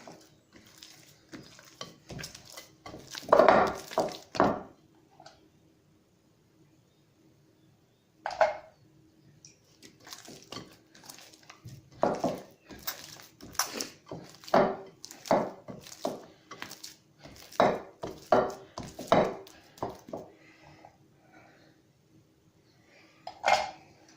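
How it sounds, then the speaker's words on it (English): Hands work salt into sticky sourdough bread dough in a bowl, making wet squelching slaps and squishes in irregular bursts, with a short quiet pause early on, close and fairly loud. "I tend to put the salt in 2 or 3 bits to mix it all right in"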